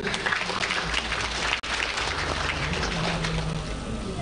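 Sustained applause from an audience at the official opening of the 46th Sabasaba international trade fair, greeting the guest of honour, an AfCFTA secretariat secretary-general; steady dense clapping throughout with a brief break midway.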